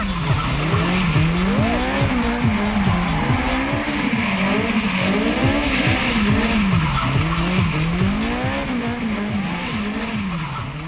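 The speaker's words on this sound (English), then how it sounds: "accelerate up to a corner at speed, using handbrake to make the car slide round it" A drift car slides round a corner under handbrake, its engine revving hard while the tires squeal in long, wavering howls that rise and fall repeatedly, loud and close, with no speech over it.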